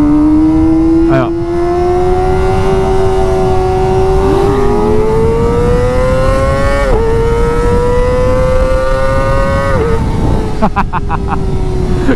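A Yamaha MT-09 and a Kawasaki Z900 rev high and loud up close, their engine tones climbing steadily with brief dips at gear changes, while riders talk over the roar.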